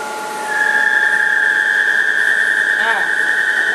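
A CNC machine table travels along its X axis, giving a steady, fairly loud high-pitched motor whine that starts after a brief quiet moment and holds, wavering briefly near the end.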